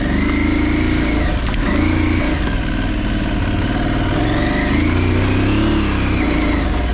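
A Yamaha Tuareg adventure motorcycle rides over slick snow on frozen ground, its engine droning close and loud with gentle swells of revving throughout, no voices.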